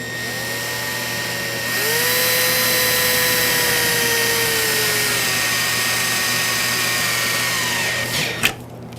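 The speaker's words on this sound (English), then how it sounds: "Very carefully drill your hole." A power drill whines up to a steady high-pitched drone as it bores a rivet hole into metal channel for motorhome bins, running several seconds before a sharp clack at the end.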